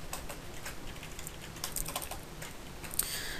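Computer keyboard typing while writing a PHP program, with quick irregular key clicks heard up close at a soft level and no talking.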